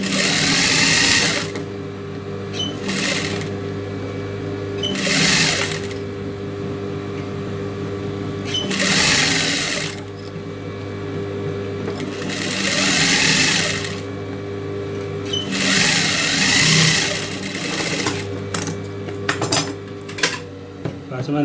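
A tailor's sewing machine stitches the neck pattern of a blouse in loud, close bursts of rapid mechanical whirring, a few seconds each, separated by short pauses with a low hum underneath.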